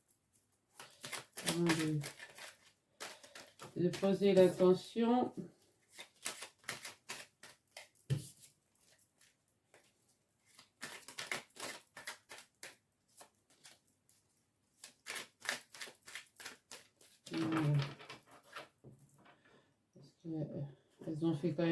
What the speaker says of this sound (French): je vais bien brasser les cartes quand même